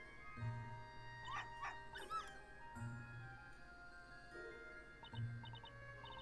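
A cute little puppy in the Professor Layton vs Phoenix Wright video game gives several short, high yips and barks, spaced across a soft background music loop, fairly faint.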